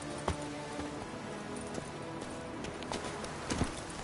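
Hooves of the horse Roach clip-clopping in The Witcher 3 video game, a steady rhythmic run of close, moderate hoofbeats with a few sharper thuds, with no talking.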